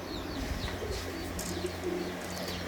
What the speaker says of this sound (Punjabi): ਇਹ ਲਾਖਾ ਕਬੂਤਰ ਹੈ ਜੀ ਅਲਮਦਾਰ ਹੁਸੈਨ ਸਾਹਿਬ ਦਾ